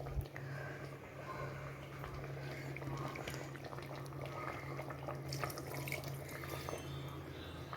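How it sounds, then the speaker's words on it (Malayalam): Coconut milk is poured into a simmering Kerala-style homemade chicken curry, giving a steady liquid rush and bubbling that stays even and close throughout. "ഇനി നമുക്ക് തേങ്ങാപ്പാൽ ചേർക്കാം."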